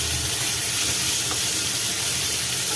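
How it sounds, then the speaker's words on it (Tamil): Finely chopped onions fry in a pan with a dense, continuous sizzle and crackle, close and steady throughout, with no voices. "பொடியாக நறுக்குன வெங்காயத்தை போட்டுக்கலாம்."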